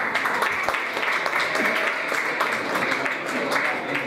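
Audience applause at a stand-up comedy show, scattered clapping from a modest crowd rising and falling under a comedian's continuous talk.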